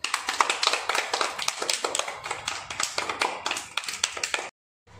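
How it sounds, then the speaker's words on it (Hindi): A group of children clapping together, rapid uneven applause that runs for several seconds before stopping abruptly. "एक बार तालियां बजाएंगे सब अपने लिए।"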